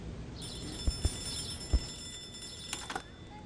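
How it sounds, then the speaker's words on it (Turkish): A telephone ringing inside a house in the Hello Neighbor video game, a thin, high electronic ring that sounds once and then again, moderately loud with a few soft thumps and no talk. "Telefon çalıyor."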